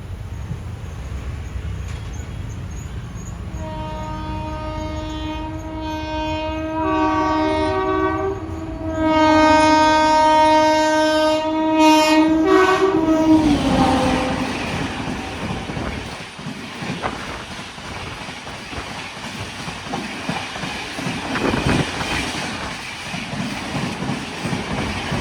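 High-speed Vande Bharat or Shatabdi express skipping Hoodi Halt station, a long loud horn blast as it nears, then a roaring rush of wheels and carriages racing past close by.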